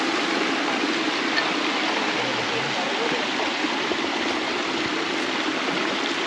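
A small waterfall with only a thin flow of water, heard as a steady, even rush of splashing water that stays at one level throughout without pause.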